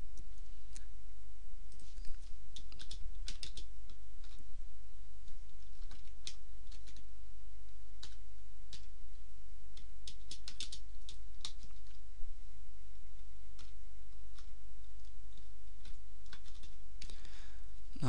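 Java code being typed on a computer keyboard, with long stretches of light, irregular key clicks and occasional louder taps over a steady low hum.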